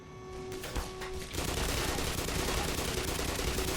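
Shotgun fire in Black Mesa Definitive Edition: loud, close blasts turning into a sustained rattling burst of gunfire with a steady hum behind, no voices over it.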